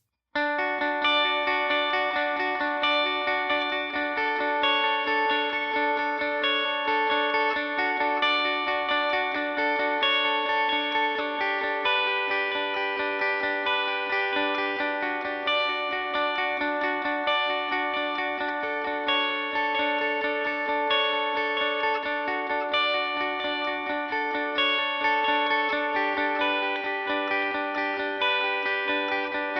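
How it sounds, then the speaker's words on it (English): An effects-laden electric guitar plays a continuous arpeggiated pattern over a sustained droning pedal note, shimmering with chorus and echo for the whole stretch. "we're going to play a very simple, it's a little bit of an arpeggiated part, but also kind of like a pedal tone kind of part"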